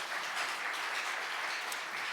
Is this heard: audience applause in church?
yes